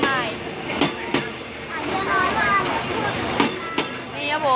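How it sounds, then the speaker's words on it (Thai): A Thai sleeper train on the Bangkok route rumbles steadily along the rails, with periodic clicks and clanks from the wheels over joints and a squealing hiss, while people talk over it. "นี่คือรถไฟตู้นอนเรามารีวิวกันนะครับผม"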